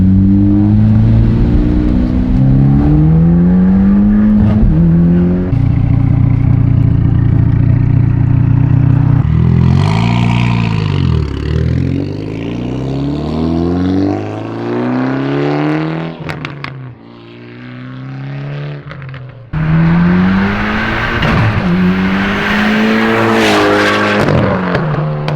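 A Mitsubishi Evo X with a straight-pipe exhaust revs hard and loud close by, its pitch climbing and dropping through several sharp blips and sustained pulls, with no talking.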